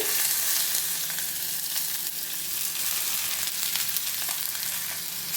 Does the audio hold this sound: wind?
no